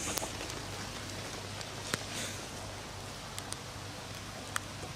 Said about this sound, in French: Parce qu'il pleut, trop.